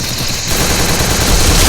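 Rapid bursts of gunfire from a video game headshot, loud and dense, a steady rattling barrage filling the whole moment with no voices over it.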